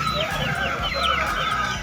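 A rooster clucks in quick, repeated bursts, close and fairly loud, with some busy background noise at the Nallampatti rooster market.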